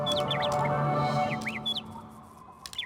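Bird in Rayman Raving Rabbids chirping in quick bright repeated tweets, clear and near over a low steady background hum, no one talking.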